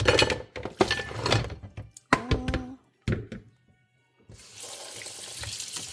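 Tap water runs over aubergines, courgettes and peppers in a colander, with clattering thunks of vegetables shifting in between and a steady stream of running water at the end.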